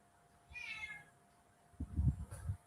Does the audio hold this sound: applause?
no